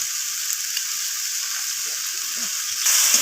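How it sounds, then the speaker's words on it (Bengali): Garlic paste, ginger paste and spices frying in hot oil give a steady, fairly loud sizzle with faint stirring scrapes, which brightens and grows louder near the end; no one speaks. "সমস্ত কিছু এইভাবে কষিয়ে নিচ্ছি।"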